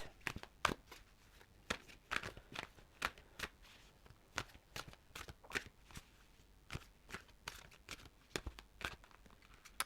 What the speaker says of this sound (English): let's just get another card out then